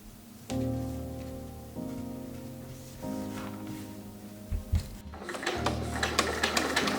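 A sewing machine bastes around the edges of corset panels, running in steady loud bursts with brief pauses between seams, followed by rustling and handling of fabric near the end.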